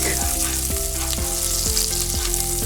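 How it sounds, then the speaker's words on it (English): Chopped garlic sautéing in a pan, a loud steady sizzle with periodic stirring scrapes roughly every half second, alone without talk. "And saute well garlic."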